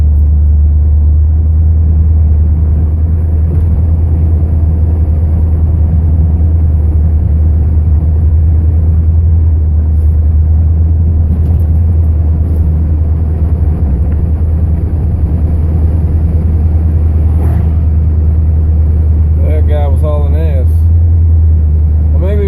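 A car driving slowly along a potholed town road, giving a constant loud low engine and road rumble from inside the cabin, with someone talking over it near the end.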